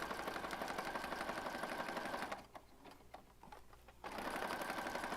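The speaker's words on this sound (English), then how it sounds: "I'm just going to stitch across the top and around the sides." A sewing machine stitching across paper journal pockets, a rapid mechanical whirring and ticking that runs steadily, pauses briefly in the middle with faint clicks, then resumes; close, quiet and with no speech.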